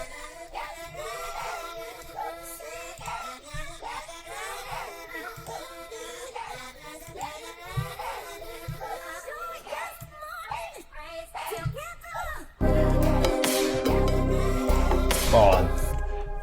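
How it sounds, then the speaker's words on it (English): A sped-up synth vocal sample pitched up 100 cents, with quick, high, warbling sung phrases over a light low pulse, ending in a sudden loud, dense burst of full sound. "I've sped it up, and I'm gonna pitch it up 100 cents"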